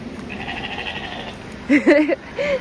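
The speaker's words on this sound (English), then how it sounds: "These sheep sound like they're doing impressions of sheep." A few short sheep bleats break out near the end after a stretch of quiet background noise, two quick calls close by.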